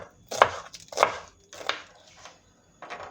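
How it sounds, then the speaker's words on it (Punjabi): Amaranth and spinach greens being chopped with a knife on a chopping board: four or five crisp, separate chops at an uneven pace, close and clear with no talking. "ਚੋਪਿੰਗ ਬੋਰਡ ਤੇ ਆਪਾਂ ਸਾਗ ਨੂੰ ਕੱਟ ਲਵਾਂਗੇ"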